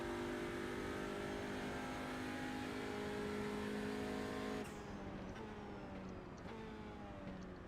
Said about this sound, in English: Not bad pace, though, which is a quick little thing for what is a front-wheel drive touring car.